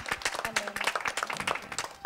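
A church congregation applauding to acclaim the Lord, quick irregular hand claps from many people close by, rising and falling in bursts, with a voice briefly audible under the clapping.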